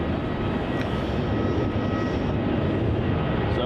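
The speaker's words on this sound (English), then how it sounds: "it looks like we have another Air New Zealand 3-4 departure" An Air New Zealand airliner departs Melbourne Airport, its engines a steady, loud broadband roar that holds unbroken throughout with no voices.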